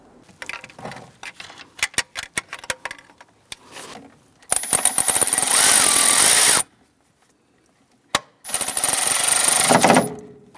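A power tool tightens the alternator nut on a 2011-2021 Jeep Grand Cherokee 3.6L V6, with scattered clicks and taps, then two loud sustained bursts of buzzing impact-driver rattling, separated by a sharp knock.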